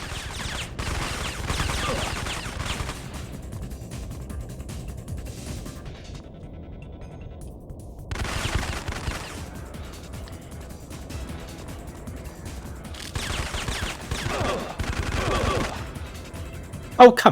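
Gunfire in the Syphon Filter video game, heard as dense rattling bursts of shots in several stretches separated by quieter gaps, loud and continuous in the foreground while a player talks over it at times.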